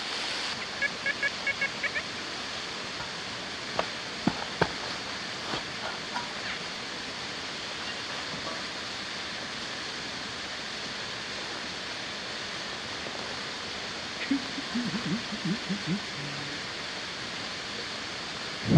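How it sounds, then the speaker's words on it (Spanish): Steady broadband rush of a waterfall in front of a cave mouth, a continuous close roar of falling water that fills the whole stretch, with a few brief clicks and faint voices now and then over it. "Estoy justo aquí enfrente de la cascada."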